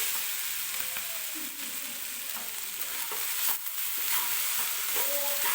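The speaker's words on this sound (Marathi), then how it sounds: "आपण एकदा कोबीची भाजी छान अशी मिक्स करून घेऊया खाली लागली नाही पाहिजे आहे" Shredded cabbage sabzi frying in a pan, a dense continuous sizzle with occasional spatula scrapes as it is mixed, close and steady throughout, no one speaking.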